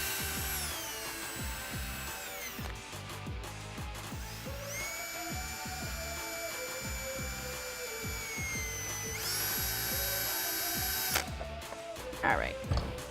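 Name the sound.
drill with 7/64 inch bit widening hole in plastic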